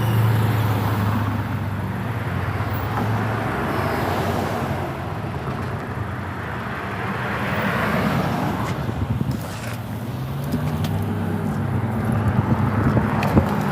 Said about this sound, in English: Busy traffic. People beeping.